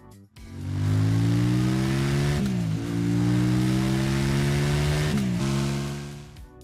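Kawasaki Ninja 650 motorcycle engine running steadily at a strong, close drone, rising slightly in pitch through two gear-like shifts with brief dips, loud and heard alone.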